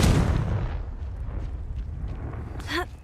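A Confringo blasting curse explodes in the game Hogwarts Legacy, a loud close boom at the start that fades into a rumbling tail, with a brief whooshing flare near the end.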